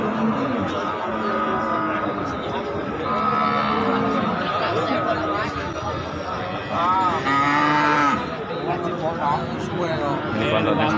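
Limousin cattle lowing at the Wagenan cattle market, several drawn-out moos rising over a constant murmur of people talking and general market bustle nearby.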